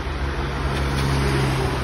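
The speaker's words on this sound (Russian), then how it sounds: "Это проехало такси" A car passing on a Moscow road in January, a steady broadband rush of tyres and engine with a low hum throughout, fairly close and continuous with no talk.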